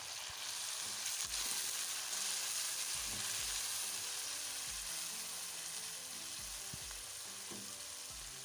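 Tomatoes frying in oil with ginger garlic paste, a steady close sizzle with a continuous bright hiss and occasional soft stirring knocks, no talking.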